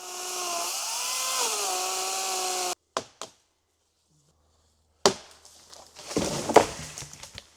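A power saw cuts through century-old bolts, giving a loud, steady whine for nearly three seconds before stopping. Sharp clanks, scraping and rustling of metal parts being handled follow.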